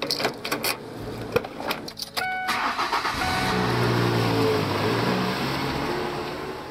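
A car is driven: a series of clicks and rattles gives way to an engine that settles into a steady, moderately loud hum and cabin drone.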